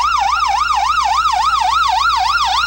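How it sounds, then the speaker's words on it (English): The Ferdinand ambulance's siren wails loudly in a small-town parade, a rapid, steady rising-and-falling yelp repeating about four times a second, close and constant throughout. "Next up, we have the Ferdinand Ambulance"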